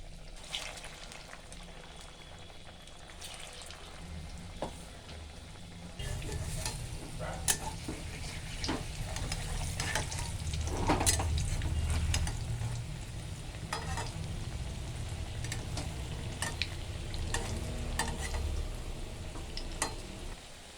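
Steady sizzling of green banana koftas frying in hot oil, a constant crackling hiss that grows louder as more pieces go in, with occasional clinks and stirring.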